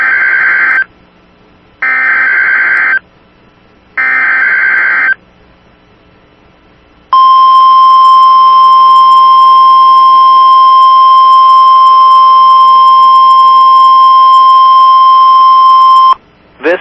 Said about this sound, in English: This is a test of the public warning alarm system.